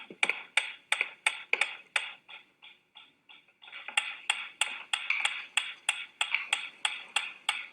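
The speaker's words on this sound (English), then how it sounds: "A ticking metronome." Steady, sharp ticks of a metronome in a quick even rhythm, close and clear, briefly dipping softer in the middle before returning full strength.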